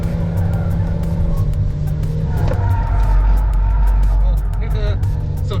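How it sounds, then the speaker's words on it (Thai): An MG5 sedan brakes hard on a test track, a steady loud engine and tire rumble carrying under nearly continuous talk, with some scraping tire noise toward the end. "ผมกระทืบเบรกแบบสุดเลยนะเมื่อกี้ครับ"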